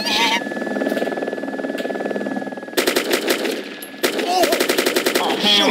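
Gunfire in the video game Wasteland: loud, close rapid automatic bursts with distinct repeating shot pulses, separated by a droning pause, with no talk over them.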